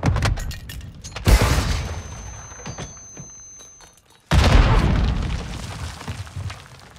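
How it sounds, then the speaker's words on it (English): Two heavy booming blasts from flash grenades in Call of Duty, each a sudden loud burst with a rumbling tail, the second hitting after a near-silent gap, with a faint ringing tone between them. "Flash grenade!"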